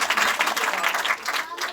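A congregation at a church gathering claps together in a sustained, even burst of applause that carries on without a break.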